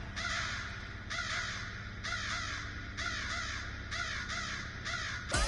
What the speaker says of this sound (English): I don't want to listen to crows.